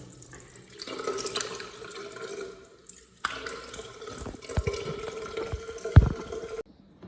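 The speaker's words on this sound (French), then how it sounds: "On se rince le visage à l'africaine" Water runs from a tap while a face is rinsed by hand, with splashing, dripping and uneven bursts of liquid close by, then a sudden stop.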